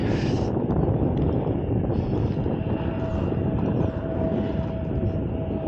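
Steady broadband jet roar from an aircraft on the runway at Manchester Airport, heard from the runway visitor park as a loud continuous rumble with wind buffeting and a faint sustained tone.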